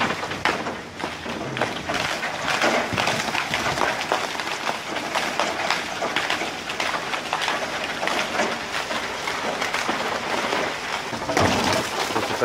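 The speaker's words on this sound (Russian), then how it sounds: "Водопад из града." Heavy hail pouring down in Novosibirsk, including a stream tumbling off a roof, a dense continuous clatter and hiss of ice pellets striking surfaces, steady and close.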